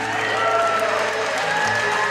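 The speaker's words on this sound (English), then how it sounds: "give them a nice big round of applause" Wedding guests at The Palace clap for the newly married bride and groom, a full, steady wash of applause from a crowd of many hands, fairly loud and continuous, with a faint murmur of voices.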